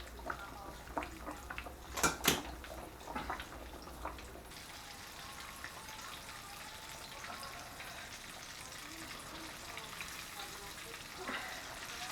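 Catfish fillets fry in hot oil with a steady, hissing sizzle that follows a few brief clatters of pans and utensils near the start.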